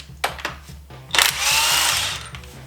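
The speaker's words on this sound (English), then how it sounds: "If this DeWalt impact can get off this crank bolt, then DeWalt is just as good as Milwaukee." A DeWalt impact wrench on a crank bolt, a couple of short taps followed by a loud whirring burst that holds steady for about a second before cutting off, up close.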